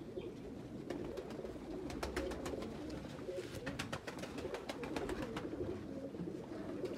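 Pigeons coo softly and steadily in a low, murmuring chorus, with faint higher chirps scattered over the top.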